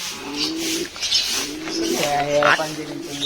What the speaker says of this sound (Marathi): कोणता हा माझ्या मते पंजाबी कबूतर आहे